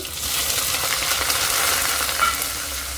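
Finely chopped onions fry in hot oil with cumin, producing a loud, steady, close sizzle with faint stirring scrapes throughout and no voices.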